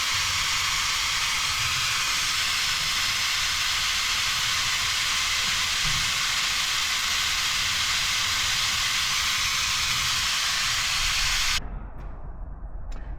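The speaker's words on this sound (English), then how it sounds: "we're going to crack the bleeder open, and we're going to suck fluid out until the fluid becomes clear" A vacuum bleeder drawing brake fluid from a Victory motorcycle's brake bleeder: a loud, steady, close hiss of suction lasting most of the time, then cutting off abruptly and leaving a quieter, rougher noise.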